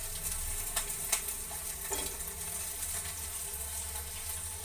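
Ingredients for lentil sambar fry in a pan with a soft, continuous sizzle and a few light stirring clicks, fairly quiet and with no talk.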